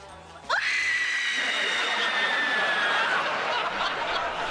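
A woman lets out one long, loud scream of rage in a bar, starting abruptly and holding steady at full strength for about four seconds before trailing slightly, with no talking over it.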